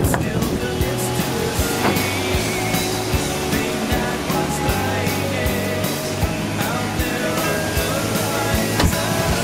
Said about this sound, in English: There's one of those gusts.